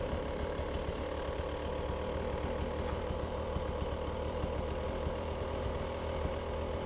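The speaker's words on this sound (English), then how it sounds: "Gotta set that idle down a little bit lower" A 2024 Beta 300RR Race Edition enduro dirt bike engine idles steadily and close by, a continuous low, even running note with no speech over it.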